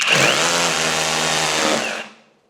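A power drill bores a 5 mm hole into a wall, a steady loud whirring grind lasting about two seconds before it winds down, with no talking.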